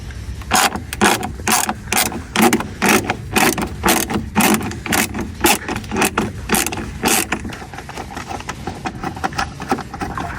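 Plastic bumper grille fasteners being worked loose on a BMW 1 Series, a close run of rapid ratcheting clicks in bursts that slow and thin out toward the end, with no talk.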